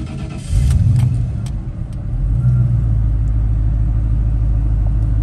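A 1938 Ford Coupe with a rebuilt fuel-injected 5.0 engine fires up on a cold day, catching with a quick rev before settling into a steady, deep idle rumble close by.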